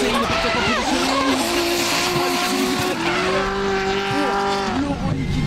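Drift cars, a BMW and a Nissan, at the Val de Vienne round of Drift France, screech their tires through a long sustained slide with loud engine roar, while commentators talk over the track noise.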